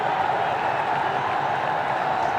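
A stadium crowd at a Bangladesh vs Australia one-day international cricket match roars and applauds after a first-ball wicket, a dense, steady wash of distant cheering with no break.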